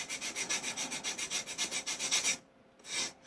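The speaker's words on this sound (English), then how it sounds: "so that it sands in and you get a nice smooth finish on there" Close, quiet rhythmic sanding strokes on a balsa wood model of a Stearman Model 75 trainer run in fast back-and-forth succession, pause briefly, then one more stroke follows.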